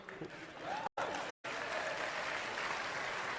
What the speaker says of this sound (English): listen to the crowd. They start laughing and they're like clapping.